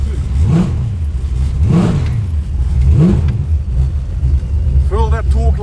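A Ford XW GT muscle car engine revs up and down in three swelling pulses at a Summernats burnout event, deep and loud, with a rumbling idle between and some faint talk near the end.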